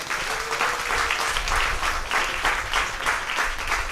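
A church congregation at a Tamil Bible service claps together in sustained, lively applause with a loosely rhythmic pulse, steady and fairly close throughout.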